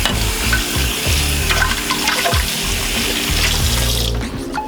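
Dishes are washed by hand under a running kitchen tap, with a steady stream of water and frequent clinks and clatters of dishware close by. The water noise drops away near the end.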